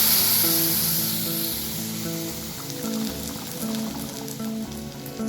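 Boiled mung dal and spinach sizzle and spatter in a hot pan with dried red chillies and cumin, a steady hissing fry that is loudest at the start and eases off slightly, with no talking.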